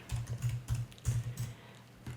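Keys on a computer keyboard tapped out in a quick, uneven burst of close clicks as a heading is typed, with no talking.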